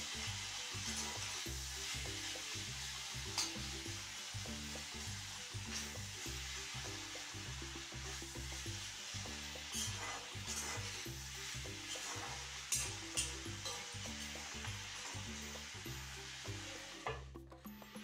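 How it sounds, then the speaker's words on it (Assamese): Tomatoes melting down in a frying vegetable mix make a steady, moderately loud sizzle, with a rhythmic scraping of stirring running underneath. "বিলাহীখিনি যেতিয়ালৈকে মেল্ট নহয় বা ভাজিখিনি শুকান নহয় তেতিয়ালৈকে ভাজি গৈ থাকিব"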